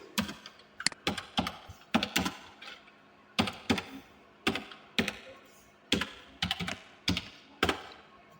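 Fingers type on a computer keyboard in quick clustered bursts of sharp clicks, separated by short pauses. The sound is fairly faint and close, with no talking.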